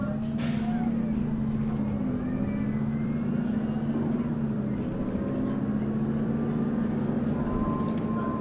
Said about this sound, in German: Man hört es auf jeden Fall gleich raus, dass man Vollgas gibt